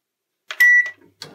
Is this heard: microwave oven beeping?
yes